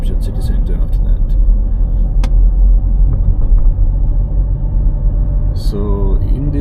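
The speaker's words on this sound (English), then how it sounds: "then I will drive towards the Darmstadt city center after that" A car drives through Darmstadt city streets, its low engine and road rumble steady and close throughout, with brief clicks and a short rising whine near the end.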